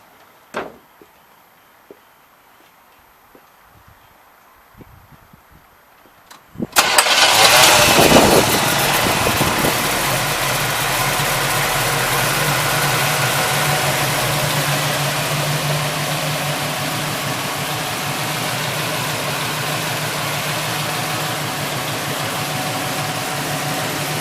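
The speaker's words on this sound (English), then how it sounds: "I'm going to fire her up now and have a listen" After several seconds of quiet, a 1972 Chevrolet Nova's 355 V8 engine cranks and catches with a loud roar, then settles into a steady, throaty idle that runs on.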